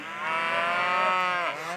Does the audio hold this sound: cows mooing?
yes